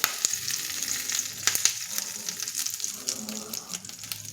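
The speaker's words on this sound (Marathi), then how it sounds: "हे बघा असं तडतडलंय चांगलं भारी तडका बसला पाहिजे" A chutney tadka crackles in hot oil close up, with sharp irregular pops and spits over a bright, steady sizzle.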